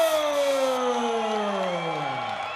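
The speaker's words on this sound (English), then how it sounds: "Listen to that sold-out crowd here at the Monona Terrace for Mark Lemminger" A sold-out crowd roars and cheers for a welterweight MMA champion at the Monona Terrace, a sustained loud wall of cheering with a falling announcer-like tone fading over the clip.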